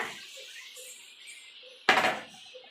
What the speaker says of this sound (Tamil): ஒரு தட்டு போட்டு மூடி வச்சுக்கோ